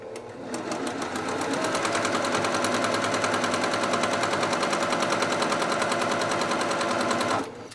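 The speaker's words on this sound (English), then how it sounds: "I'm sewing on the Brother PQ 1500 SL" A Brother PQ 1500 SL sewing machine runs at speed while machine-embroidering a Santa table runner, a loud, even, rapid needle clatter that holds steady for several seconds before stopping abruptly.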